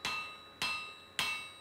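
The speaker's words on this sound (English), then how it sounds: "I will then take the flat of the hammer and I will carefully remove" A hammer strikes metal on an anvil while forging a Sutton Hoo-style axehammer, three crisp ringing blows evenly spaced about half a second apart, each decaying with a bright metallic tone.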